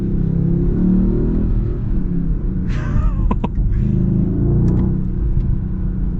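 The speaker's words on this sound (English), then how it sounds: "did you hear that with the exhaust? Oh man, that sounds just beautiful. You've got like the burbles." Exhaust burble and crackle from a 2023 Mercedes GLS 63 AMG, a few quick pops and bursts rising out of a steady low engine rumble, heard close over a constant drone.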